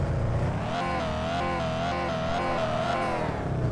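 Car engine in Car For Sale Simulator, a continuous close, loud droning rev that rises and falls in pitch as the car drives and drifts, without talk.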